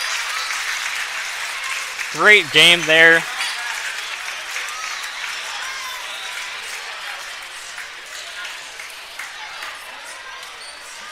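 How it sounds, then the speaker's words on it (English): Sustained crowd applause from the Trinity Christian home crowd at the end of a high school basketball game, steady clapping that slowly thins, with a few squeaky whistle-like bursts and a commentator talking over it. "a standing ovation from the Trinity Christian crowd"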